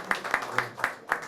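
A few people clap at a brisk, even pace during a press conference and bracelet-giving ceremony for a seventh anniversary. There are about five sharp claps, close and moderately loud, with no voices over them.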